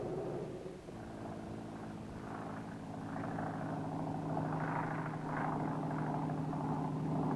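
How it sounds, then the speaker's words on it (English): A chartered airplane carrying an aerial radiation survey analyzer drones steadily overhead at daybreak, a continuous engine hum with a rising, rough upper texture and no voices. "To monitor for airborne radioactivity, a chartered airplane was in the air at daybreak with an aerial survey analyzer."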